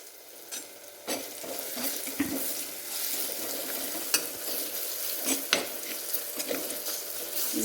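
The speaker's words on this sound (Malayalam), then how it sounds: "നന്നായി ഇളക്കി കൊടുക്കാം." Kerala-style karimeen fish curry masala is stirred in a pan with a spoon, giving steady scraping and gentle sizzling with scattered sharp clinks, close and fairly loud with no talking.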